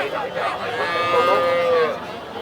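Calves and cattle mooing at a weekly livestock market in northern Bengal: one drawn-out, wavering moo rises clearly midway over a steady murmur of market background noise.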